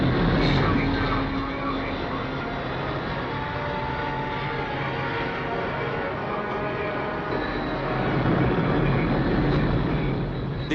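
RAF Coastal Command planes fly out over the sea toward British weather ships in 1965. Their engines make a dense, continuous droning roar that stays loud throughout and swells slightly near the end.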